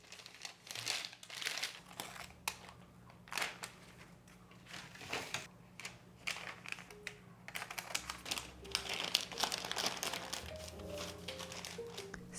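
Parchment paper crinkles and rustles in bursts as it is pressed into a baking sheet, close and fairly soft, with short pauses between handling sounds.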